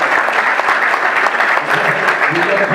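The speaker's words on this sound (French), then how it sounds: "je voudrais qu'on acclame pour toute l'organisation du travail" An audience applauds at a church gathering, dense continuous clapping filling the room at steady loudness throughout, with no pauses.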